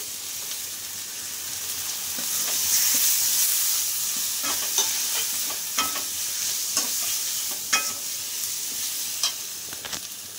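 Turmeric powder and a cumin-ginger paste fry in a pan with steady bright sizzling, broken by occasional scrapes and clinks of stirring, close and moderately loud with no talk.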